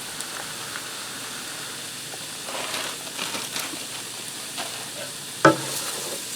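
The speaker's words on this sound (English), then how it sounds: "I'm going to stir that around in there for a minute and let it get toasted just for a minute" Raw white rice toasting in a pan is stirred with a soft, steady sizzle, brief scraping strokes rising over a continuous hiss, with one sharp clack near the end.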